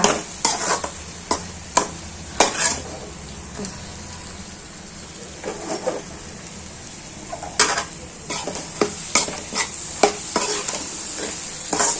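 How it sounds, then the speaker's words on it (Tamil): Mango pickle is stirred in a pan over medium heat, a spoon scraping and clacking against the metal in uneven bursts over a low, steady sizzle. "மீடியமில் வச்சு இந்த மாதிரி சுருள சுருளை பரட்டணும்"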